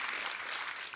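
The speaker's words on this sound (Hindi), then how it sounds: "सनी के लिए जोरदार तालियां." Loud, dense applause from a television comedy studio audience, a steady wash of many hands clapping with no gaps through the whole second.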